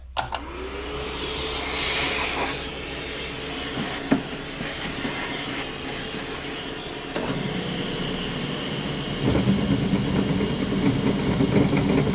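A vacuum cleaner motor hums steadily close by, with a few knocks along the way and a louder, rougher surge toward the end.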